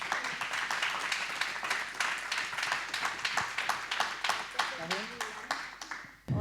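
Audience applause for a film editor at a screening presentation, dense rapid clapping throughout, fairly close, with a voice emerging near the end.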